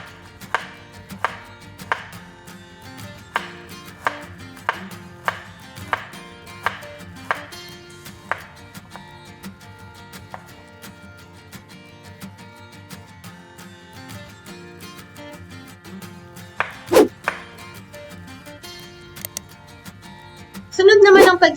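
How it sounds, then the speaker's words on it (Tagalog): A knife chops through garlic on a cutting board in sharp, evenly spaced taps, slicing it thin for garlic chips, then stops as a voice talks over quiet background music. "hihiwain natin ng maninipis para ma-achieve natin yung tinatawag na garlic chips pag pinrito na"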